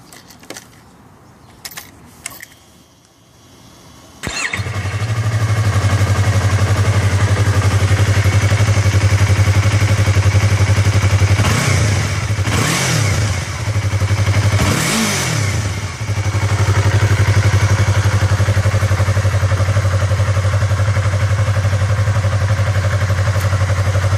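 A Yamaha R3 motorcycle with its stock exhaust muffler starts after some faint clinking and settles into a steady, low, fairly quiet idle, with a few brief throttle blips partway through before the even drone continues.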